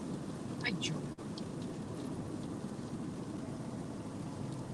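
Heavy rain pours down steadily in Florida, a constant dense wash heard from inside a moving car, with a brief muffled voice near the start.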